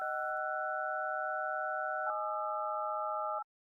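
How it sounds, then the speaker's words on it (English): Telephone keypad tones played as chords: two steady electronic dual-tone beeps, one held about two seconds then a slightly different one for over a second, clean and sustained with no talk, ending abruptly. "We will play chords on this telephone."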